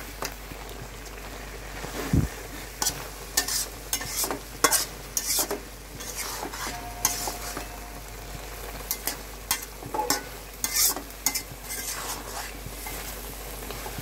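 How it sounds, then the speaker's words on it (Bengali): Cumin paste and spices being stirred into a Bengali fish curry (tel koi) in a pan, with intermittent scraping and clinking strokes over a low, steady background sizzle. "এভাবে জিরেটা আমরা সবকিছুর সঙ্গে মিশিয়ে নিলাম, যাতে করে জিরে বাটাটা দলা পেকে না থাকে মশলাটা"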